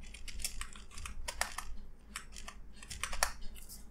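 Rapid, uneven clicking of keys on a computer keyboard while PHP code is typed, the keystrokes close and crisp in quick bursts with brief pauses.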